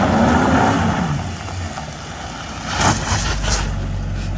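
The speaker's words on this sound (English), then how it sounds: "Sounds like a hot rod." A hot rod car with straight pipes revs its engine, a rough rumbling growl that swells and surges near the end, heard close with no talk over it.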